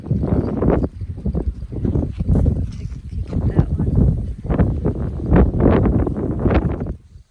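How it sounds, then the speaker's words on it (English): Gusty wind buffets the microphone in rumbling bursts while a person speaks briefly underneath. "I think it's so windy"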